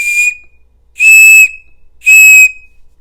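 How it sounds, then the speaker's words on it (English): A keychain multi-tool whistle blown in three sharp, piercing blasts, the first short and the next two longer, each loud and close with a steady high pitch and clean silence between. "I'm going to start with this whistle first."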